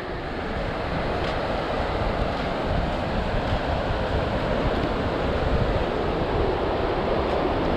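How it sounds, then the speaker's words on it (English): Big ocean waves breaking on the beach at Holden Beach, North Carolina, a steady loud roar of surf blended with wind buffeting the microphone, no voices. "I'm seeing all these big breaking waves"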